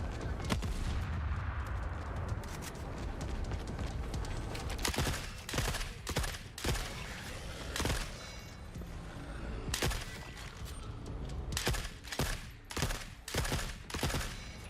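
Unsilenced rifle fire in the shooter game The Forever Winter crackles in loud, dense bursts and rapid volleys, with sharp single shots punctuating the barrage throughout and no talking.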